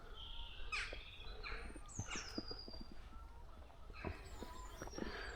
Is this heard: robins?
yes